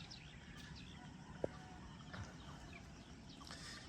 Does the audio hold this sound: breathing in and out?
no